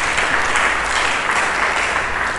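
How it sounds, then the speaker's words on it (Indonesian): Congregation applauding Jesus Christ during a church sermon, a dense, steady crowd clapping that fills the space at even loudness throughout, with no voice over it. "Mari kita berikan tepuk tangan bagi Yesus Kristus"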